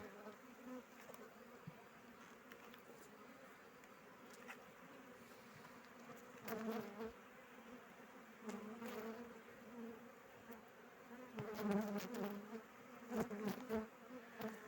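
Honeybees buzz around an open hive during a spring colony inspection, a soft, continuous drone with louder swells as bees pass close, plus faint handling noises.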